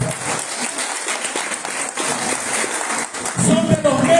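Audience applause at a gathering of earthquake victims' representatives, a broad, steady wash of clapping from a crowd that continues throughout and swells louder near the end, with a voice briefly breaking through over it.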